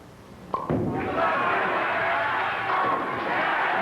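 A bowling ball crashes into the pins at a 1995 PBA professional tournament, a sharp impact followed by a sustained clatter and rising crowd noise, with a voice talking over it.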